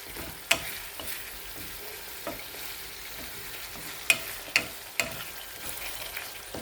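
Mint chutney cooking with a little water in a pan, a low steady simmering bubble broken by a few sharp clanks and scrapes of a spoon against the pan.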